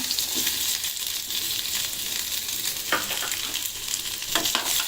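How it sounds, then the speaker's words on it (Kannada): Half an onion fries in hot oil, a dense continuous sizzle with a couple of brief stirring scrapes, close and steady with no talking. "ಇದರಲ್ಲಿ ಒಂದು ಅರ್ಧ ಈರುಳ್ಳಿ ಫ್ರೈ ಮಾಡ್ಕೊಳ್ಳೋಣ"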